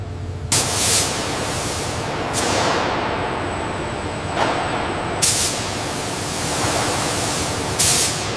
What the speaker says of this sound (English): Spraying initiated.